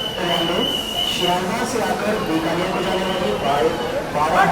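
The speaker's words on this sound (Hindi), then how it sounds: "और ये आ चुकी है अपनी 12398 महाबोधि एक्सप्रेस, न्यू दिल्ली गया महाबोधि एक्सप्रेस आती हुई" The 12398 Mahabodhi Express (New Delhi–Gaya) pulls into a station platform with a continuous rumble, a sustained wheel squeal and clattering, while someone talks over the noise.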